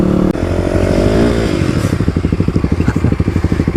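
A Kawasaki KLX dirt bike revs loud and close, dipping briefly as a gear shifts and then climbing again into a rapid, rhythmic engine pulse under acceleration, with no talking.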